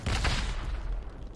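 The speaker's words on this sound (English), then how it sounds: "There's shots landing all around us" Dense volley of shots landing close all around in the game Hell Let Loose, loud and continuous with rumbling booms, strongest in the first half-second and then thinning into a steady crackle.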